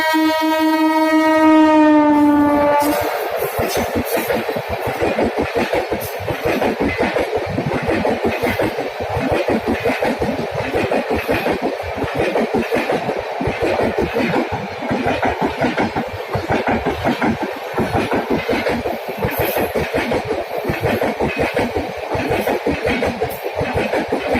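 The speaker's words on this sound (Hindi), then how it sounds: "गाइस ये आ रही है अपनी मुंबई राजधानी, जो कि 12952 न्यू दिल्ली मुंबई राजधानी, स्किपिंग निज़ामुद्दीन।" The 12952 New Delhi–Mumbai Rajdhani Express, skipping Nizamuddin station, sounds a long horn blast as it approaches, then thunders past close by with a dense, rapid rhythm of wheels clattering over rail joints.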